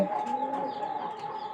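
Pigeons in a home loft where chicks have just hatched coo steadily and fairly close, a soft continuous murmur with no talking over it.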